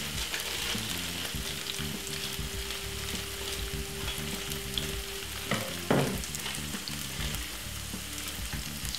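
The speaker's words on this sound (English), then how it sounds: "just fry it out for roughly 3 to 4 minutes until you see they get a nice lovely color" Food frying in a pan gives a steady close sizzle with a faint high whine and a couple of sharp utensil clinks near the end, no voices.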